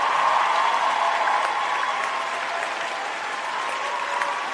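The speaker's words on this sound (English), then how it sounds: "Give him a hand clap, Statman." A crowd breaks into hearty applause, a dense, sustained clatter of many hands clapping. It starts strong and tapers slightly over a few seconds.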